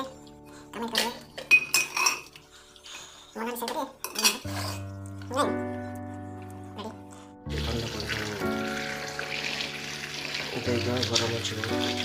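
Plates, dishes and steel cutlery clinking and clattering in a bachelor's kitchen, sharp metallic chinks and ringing tones up close, followed by running water from a tap, with some talk in the background.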